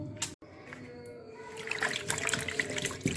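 Water poured from a container into a vessel while testing homemade liquid soap foam, a faint close trickle and splash that grows busier over a few seconds.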